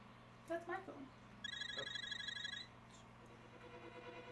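A phone rings twice, with short electronic trilling bursts during a casual gaming session, the second ring longer and steadier, with a low constant hum and a voice briefly heard before it.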